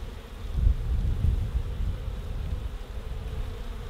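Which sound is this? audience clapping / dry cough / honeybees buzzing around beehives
honeybees buzzing around beehives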